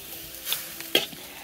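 Instant noodles (mie goreng) being stir-fried in a pan, with soft scraping and stirring strokes and a faint sizzle, punctuated by a few sharper utensil clinks against the pan, close by and with no talking.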